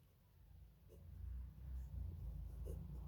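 Parameters written by hand during a two-port network lesson, faint scratchy pen strokes under a steady low hum.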